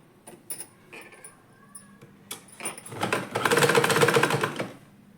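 Electric sewing machine running steadily for about two seconds while stitching a salwar top seam, preceded by short clicks and handling noises, loud and close with no talk.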